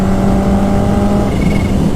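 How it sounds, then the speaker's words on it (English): A Kawasaki Ninja H2R supercharged motorcycle exhaust revs hard and close, a loud, dense engine roar with a steady pitch. "Listen to that exhaust."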